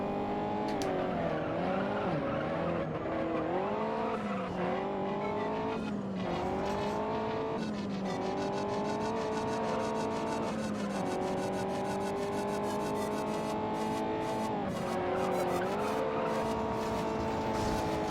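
A race car in a racing video game revs hard through a corner, its steady engine tone rising and falling with shifts while tires squeal intermittently throughout.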